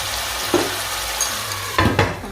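Tomatoes sizzle softly in a pan for a savoury vegetable pie while a utensil stirs them, a steady low frying hiss broken by a few sharp scraping knocks against the pan.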